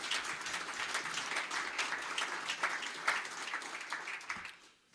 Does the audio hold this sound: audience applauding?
yes